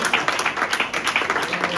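A church congregation claps together in steady, dense rhythmic applause, loud and close, with no cheering voices standing out over the continuous patter of hands.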